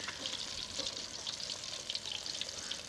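Fish pieces frying in hot oil for a fish karahi, producing a steady, close, crackling sizzle that runs unbroken, with small popping spurts scattered throughout.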